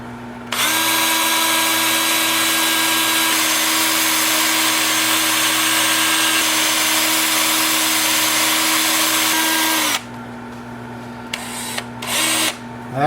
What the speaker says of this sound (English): 2-inch sanding disc.